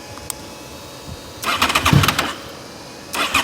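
A custom fifth-generation Honda VFR800 fi motorcycle engine starting, with a short cranking whir that catches into a brief rough rev burst, then drops and flares once more near the end, heard up close.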